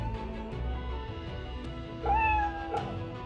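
A game cat meows in Fate/Grand Order x Samurai Remnant, a short rising call near the end over steady background music and ambience.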